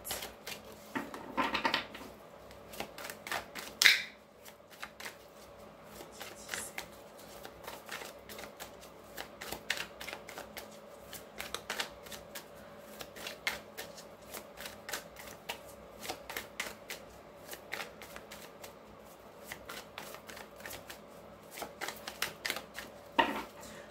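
Tarot cards shuffled close by, a long run of crisp flicks and riffles in irregular bursts, fairly quiet, with no talk.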